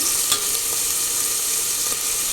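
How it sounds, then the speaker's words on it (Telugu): Paneer biryani ingredients frying in a pan, a steady close hiss of sizzling oil with a few small crackles, heard alone and even throughout. "దీన్ని ఇవన్నీ 2 నిమిషాలు వేగుతాయి"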